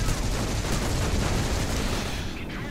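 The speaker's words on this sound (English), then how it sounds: "I'm using the default assault rifle now, which is a good balance of range and power and recoil" Dense, continuous assault rifle fire in the space shooter Shattered Horizon, a steady loud stream of rapid shots with no pauses, easing slightly near the end.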